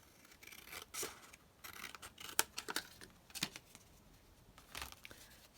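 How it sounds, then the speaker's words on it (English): Scissors snip through paper for a folio flap in a series of faint, crisp, irregular cuts, scattered close together with brief gaps. "Just going to cut it here."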